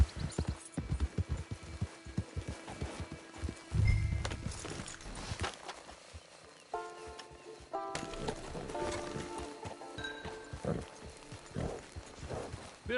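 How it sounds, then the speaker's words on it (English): Horse hooves clip-clop at a steady walking pace in Red Dead Redemption 2, moderately close and fairly quiet, with a brief thud and some game ambience and music partway through. "It's your horse."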